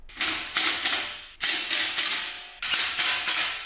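Rock slider bolts on a 3rd Gen Tacoma are cranked down with an impact tool in three close, loud bursts of rapid rattling hammering, each lasting about a second with short gaps between them.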